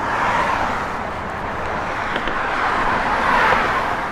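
A 1964 Ford Falcon with a dual exhaust system gives a steady, broad engine rumble at a constant level, with a slight swell near the end and no voices.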